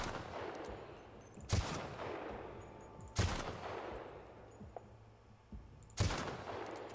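Three sharp, loud gunshots spaced a couple of seconds apart in the video game The Outer Worlds, each with a short echoing tail over a low background hum.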